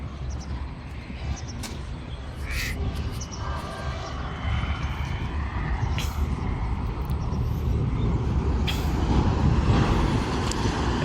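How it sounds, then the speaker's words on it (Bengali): Steady roar of mixed highway traffic, buses, trucks and cars, on the busy Dhaka–Chittagong road near Bhatiari, a continuous broadband rumble that swells slightly over time with occasional brief higher sounds passing by. "বাংলাদেশের বিভিন্ন প্রান্ত থেকে এই রুট দিয়ে নানা রকমের গাড়ি, নানা ধরনের গাড়ি চলাচল করে"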